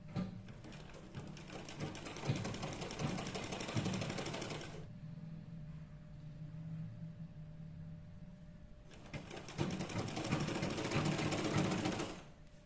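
A sewing machine top-stitching a churidar top, running in two steady, close, rattling bursts separated by a pause of a few seconds.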